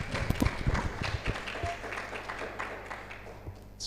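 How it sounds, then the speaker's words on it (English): Scattered audience clapping at a workshop in Malawi after a speech, a few uneven claps close by that thin out and fade over a few seconds. "I think he deserves a big round of applause."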